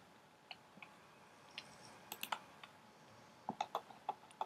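Clicks from a computer mouse while picking an object to download in a web browser, a few faint sharp ticks scattered through quiet room tone, with a small cluster near the end.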